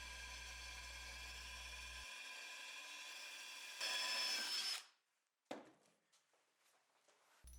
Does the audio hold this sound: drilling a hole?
yes